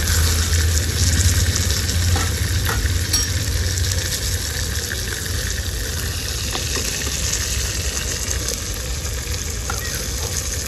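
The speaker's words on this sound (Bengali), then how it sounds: "মাছের বড়াগুলো ভাজা হয়ে গেছে।" Kachki fish fritters mixed with mustard and onion fry in hot oil, giving a dense, continuous crackling sizzle that holds steady and close throughout, with faint occasional clicks over a low background hum.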